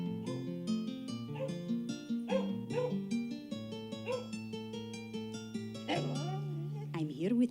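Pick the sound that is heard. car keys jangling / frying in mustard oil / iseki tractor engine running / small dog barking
small dog barking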